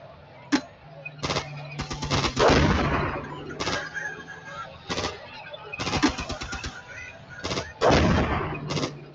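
Gunfire in the wargame Armored Brigade 2 while defending Fulda: a series of loud, close shots and short rapid bursts with heavier booming blasts between them, irregularly spaced over nine seconds.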